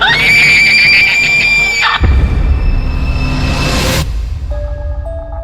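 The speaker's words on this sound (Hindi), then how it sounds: "इस बार अंदर के कमरे से एक और चीख आई" Radio horror drama sound effect of a woman's scream from an inner room: a loud, shrill, wavering cry that breaks into a harsh noisy burst and a rising sweep, then fades to faint tones.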